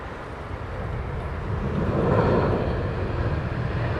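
A Lufthansa airliner arrives at Heathrow Airport in the evening, its jet roar swelling to a broad, steady rumble at mid-point and then holding loud against wind buffeting on the microphone.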